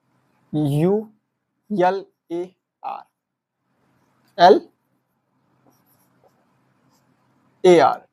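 A marker writes code letters on a board in a few short, squeaky strokes, each isolated burst separated by quiet pauses.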